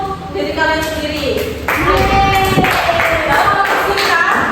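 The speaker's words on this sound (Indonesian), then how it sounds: "Tepuk tangan untuk diri kalian sendiri." A classroom of students claps together, a steady patter of hands that swells partway through and continues to the end, with young voices mixed in.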